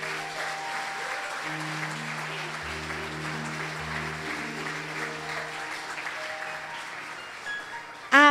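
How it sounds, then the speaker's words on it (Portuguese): Church congregation applauding together during a worship service, steady dense clapping sustained throughout, with held organ or keyboard tones underneath and a brief louder burst at the very end. "Louve a Deus com as suas palmas em nome de Jesus."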